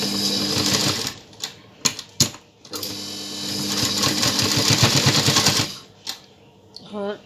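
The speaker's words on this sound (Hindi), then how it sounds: "यहाँ पर स्टिच लगाना" A sewing machine stitches a blouse neckline in loud, rapid bursts of whirring, pausing and restarting between runs of stitching, close to the listener.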